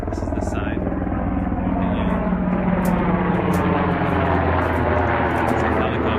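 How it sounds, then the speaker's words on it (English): A helicopter drones steadily throughout, a continuous low rumble with rotor pulsing, loud and close, with faint background noises. "It's a helicopter. It's the second helicopter we've heard."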